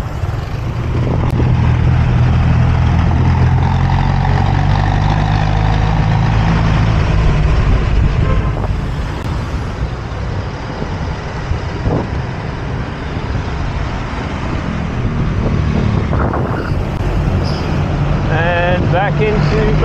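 Trucks idling and passing on a busy road into Baguio, heard from a bicycle: a loud, continuous low engine rumble and road roar with heavy vehicles swelling by close at hand.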